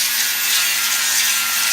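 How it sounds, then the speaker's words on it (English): A 7-inch grinder fitted with a sanding pad works across a pool surface, giving a steady, loud, hissing abrasive rasp with no pauses over the short stretch. "Using a 7-inch grinder with a sanding pad"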